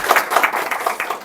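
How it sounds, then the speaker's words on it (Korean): Applause and clapping for a professor at the close of a lab open-house session, a dense burst of many hands that stays steady and fairly loud for the whole moment. "교수님께 큰 박수 부탁드리면서"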